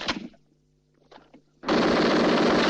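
Machine-gun fire in a war film, a loud continuous automatic burst erupting abruptly after a quiet stretch with faint background sounds.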